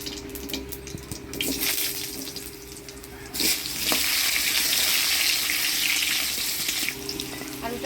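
Bay leaves and potatoes hit hot tempering oil for a fish curry in a village kitchen, a steady close sizzle that swells loudly about halfway through as the potatoes go in and keeps frying strongly.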